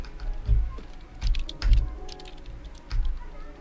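A few short bursts of computer keyboard typing in the game Stray, soft close clicks in small clusters separated by brief pauses, with no talk.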